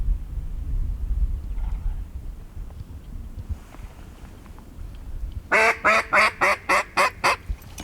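A duck call blown by a hunter gives a quick cadence of about eight sharp, loud quacks in a steady rhythm near the end, after a stretch of quiet outdoor wind noise.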